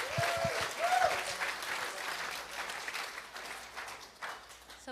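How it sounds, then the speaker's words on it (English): A synagogue congregation at a Friday night Shabbat service breaks into loud, sustained applause, clapping continuously and filling the room for several seconds. "Let's give him a round of applause."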